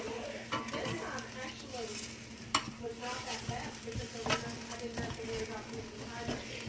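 Whole chicken pieces are flipped in an air fryer with tongs, giving soft scraping, shuffling and light sizzling sounds, a couple of sharper clacks, and a steady fan hum beneath, all fairly quiet with a voice talking over it.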